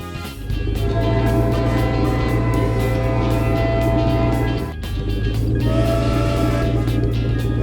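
A loud, continuous rumbling train-like drone with tonal hums, briefly dipping before resuming, a glowing cartoon train moving along in a Peppa Pig animation.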